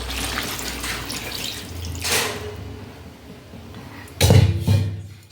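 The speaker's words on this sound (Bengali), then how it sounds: "এবার জলটা দিয়ে দেবো অল্প করে।" Water poured a little at a time into a pan of fried chicken on the stove, soft splashing under a low sizzle, ending in two louder pours and a clank of the pan, with no talk.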